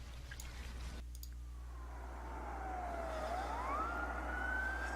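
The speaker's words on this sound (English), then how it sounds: "you start to hear sirens" Police car sirens draw near and sweep past, a wailing tone rising and falling over a steady low engine hum, growing gradually louder, with no talking.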